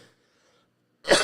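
A single short, harsh cough bursts out after a second of near silence, close and fairly loud.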